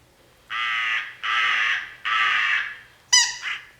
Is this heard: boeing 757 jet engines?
no